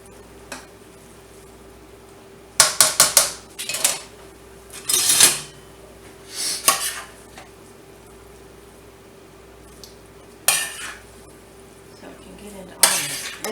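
A utensil stirs shrimp and caper pasta in a pan, giving scattered scraping clinks and knocks in uneven bursts over a quiet background hum.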